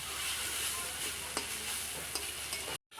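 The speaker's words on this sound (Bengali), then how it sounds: "খুব বেশি ফ্রাই করবো না, হালকা ফ্রাই করবো, তাহলেই হয়ে যাবে।" Momo filling fries lightly in a pan, a dense close sizzle with soft stirring scrapes that stops abruptly near the end, with no speech.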